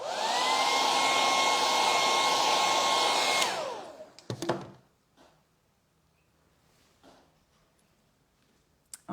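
A hair dryer blows loudly and steadily on freshly stenciled paint for about three seconds, then winds down and clicks off, followed by a few knocks and quiet handling noises.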